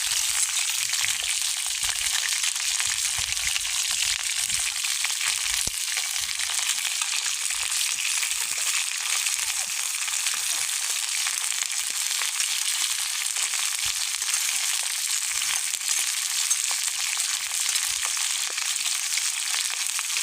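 Meat and onion fry over an open outdoor fire while potatoes and vegetables cook, giving a steady, dense crackling sizzle that holds at an even loudness the whole time with no voices.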